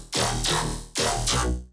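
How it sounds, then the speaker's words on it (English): Metallic synth bass in a colour bass style: two loud, sustained, harmonically rich notes, each swelling and fading, upfront and alone. "We also have this other kind of like metallic-y bass"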